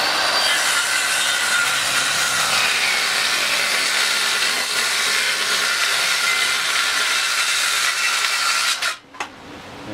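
A wood router cuts along a strip of wood on a non-slip router mat, a loud continuous whining roar held steady for several seconds before cutting off abruptly near the end.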